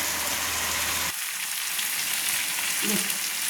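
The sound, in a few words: chicken sautéing in a covered pan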